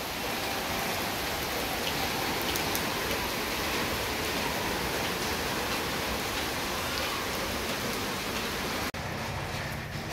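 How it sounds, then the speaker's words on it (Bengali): Light drizzle falls steadily in the evening, a dense, even wash of rain noise that carries on without pause, briefly dipping near the end. "বৃষ্টিটা এখন মুষলধারে না হলেও ঝিরঝির করে হচ্ছে"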